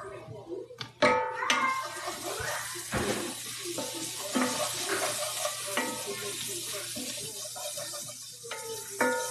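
Red onion frying in oil in a pan, a steady close sizzle with occasional stirring scrapes and clanks, while a person talks intermittently over the cooking.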